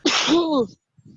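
A single loud, close human sneeze with a sharp explosive onset, followed by a brief quiet pause and a faint trailing sound.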